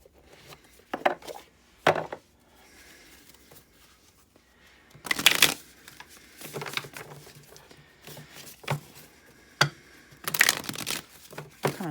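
Tarot cards being shuffled in a tarot reading, heard as scattered bursts of riffling and slapping at irregular intervals, fairly close and moderately loud, with quiet gaps between and no talking.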